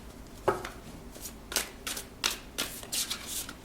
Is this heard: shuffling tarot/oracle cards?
yes